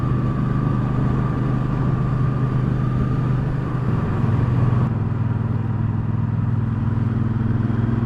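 A 2019 Triumph Speedmaster cruiser runs in sixth gear at about 70 mph with a steady, loud engine drone under wind noise, holding an even tone throughout.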